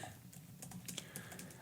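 Brief burst of quick keystrokes on a computer keyboard as a search is typed, close and fairly quiet, with no voices.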